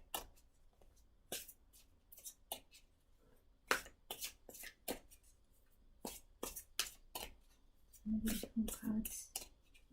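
Tarot cards being shuffled, a run of crisp, sharp riffling bursts spread across the clip, close and fairly loud, with a quiet voice murmuring briefly near the end.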